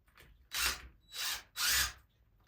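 A power drill drives screws into a five-tier quail layer cage during assembly, giving three close, loud whirring bursts of about half a second each, separated by short pauses.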